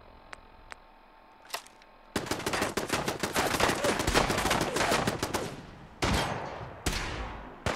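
Gunfire in Fallout 4 at Fort Hagen, from the Automatron DLC on PC: a few sharp isolated shots, then a long stretch of loud, rapid, overlapping firing with a couple of heavy single blasts at the end.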